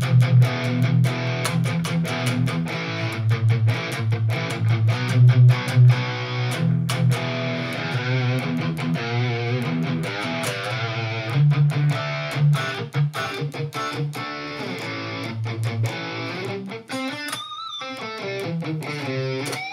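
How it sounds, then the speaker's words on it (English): A metal guitar tone plays through a Mooer GE-1000 with heavy distortion, a loud stretch of chugging palm-muted riffs and sustained chords, played alone with no talking. "Let's see if we can get a decent metal tone out of that."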